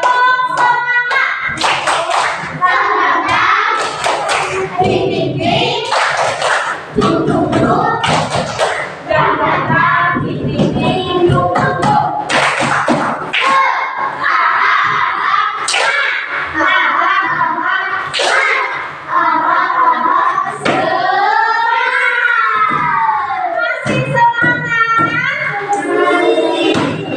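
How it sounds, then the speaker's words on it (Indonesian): A group of children in a classroom does a rhythmic call-and-response 'tepuk semangat' clap, sharp hand claps in patterned bursts mixed with loud chanting voices and shouts throughout. "Tepuk semangat saja ya, biar ikutan semangat ya."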